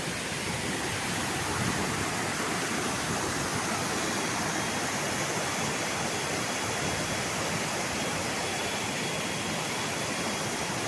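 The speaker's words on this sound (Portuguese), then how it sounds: "Barulho da cachoeira." A waterfall in the Atlantic Forest roars steadily and loudly, a dense unbroken wash of falling water that fills the whole stretch with no pauses or voices.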